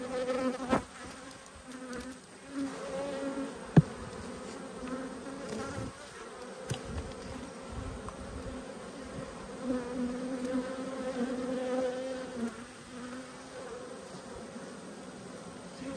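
Honeybees hum in an open brood nest of a hive during a strong nectar flow, a soft, continuous droning buzz with faint overlapping whines from individual bees, steady and fairly quiet.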